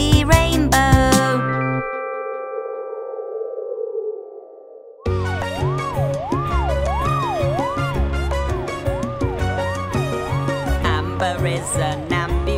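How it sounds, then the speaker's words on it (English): Bright cartoon music is playing when an ambulance siren chimes in as a looping wailing tone riding over the upbeat tune in a children's truck cartoon. "Amber has a siren to warn us when she's driving"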